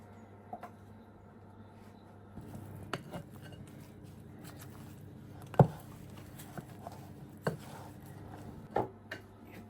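Apple pie filling of apples, no added sugar, is stirred in a bowl, with soft scraping and scattered light knocks of the utensil against the bowl coming at irregular moments, fairly quiet and with no voices.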